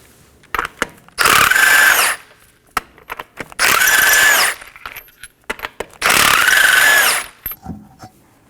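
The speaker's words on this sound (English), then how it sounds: "Now let's go ahead and remove our front wheel using a 21mm socket." An impact tool with a 21mm socket zips loose the front wheel lug nuts on a 2015-2023 Nissan Maxima, giving three loud, close whirring bursts of about a second each with a rising whine, separated by clicks and clattering.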